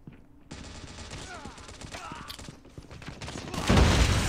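MSMC submachine gun fire in Call of Duty Mobile on the Space Station map, rapid bursts of automatic shots with game effects, growing louder toward the end, with faint voice chat underneath.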